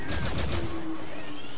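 Weapon fire in the Star Wars Battlefront II video game: a quick burst of several loud blaster shots, followed by a fading synthetic whine and ringing tail.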